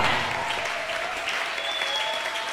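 A church congregation applauds steadily throughout, a dense wash of clapping with faint cheering mixed in during a deliverance service.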